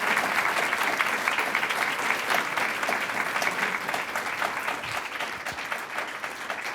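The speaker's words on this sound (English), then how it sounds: "Can we have a round of applause, please?" An audience applauds at a drag scholarship book event, a dense, even roar of clapping from many people that holds steady throughout.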